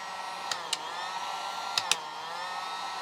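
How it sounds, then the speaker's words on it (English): Heat gun running at reduced output from a Volcan Energon 700 portable power station, a steady faint blowing hiss with a few small clicks or taps over it. "you can hear the heat gun is not pushing all the way"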